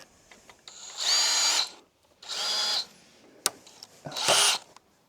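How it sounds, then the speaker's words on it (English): A power drill whirs in three short bursts separated by pauses, with a sharp crack of the drill bit snapping between the second and third bursts. "fucking drill bit's just snapped"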